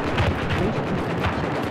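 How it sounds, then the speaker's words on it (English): Gunfire aimed at a helicopter in Battlefield 4, a dense, continuous rumble of rapid shots and blasts throughout, loud and steady, with no talking. "I'm gunning for this heli that I think's trying to help with A."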